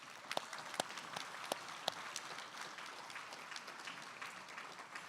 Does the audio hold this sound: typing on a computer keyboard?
no